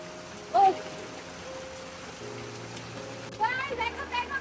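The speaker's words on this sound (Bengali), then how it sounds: "আজকে দেখো এত সুন্দর বৃষ্টি পড়তেছে, না ভিজে পারতেছি না।" Heavy rain falls in a steady, soft hiss, fairly quiet and even throughout, with a couple of brief voice sounds breaking through near the start and toward the end.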